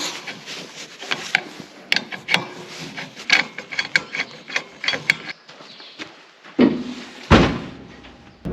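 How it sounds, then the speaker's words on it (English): Gas bottle being swapped on a MIG welder: a run of knocks, scrapes, metallic clanks and ratcheting rattles close by, ending in a couple of heavier bangs, with no talk. "swap over this gas bottle for the MIG welder"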